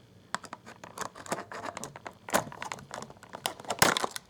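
Scissors snipping two plastic bands off the packaging of a Camp Cretaceous Velociraptor Echo action figure, with sharp cuts and crinkling plastic heard close up, a louder snip near the middle and another toward the end.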